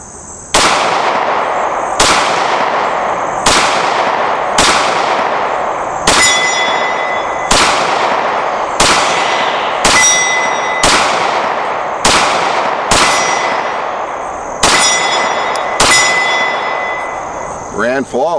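Pistol shots from a SIG converted to a double single fire in about thirteen loud, evenly spaced reports roughly every second and a half, each a sharp crack with a brief ringing tail, close and unaccompanied by talk.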